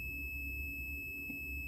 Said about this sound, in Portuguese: É aqui que é a escala de bip. Aí você pega, encosta um no outro.